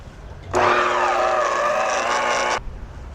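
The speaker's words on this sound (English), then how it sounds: "I think we need a new belt sander." A belt sander runs for about two seconds, starting and stopping abruptly with a loud, steady whine over a low rumble. The tone is harsh and slightly wavering, with no voices over it.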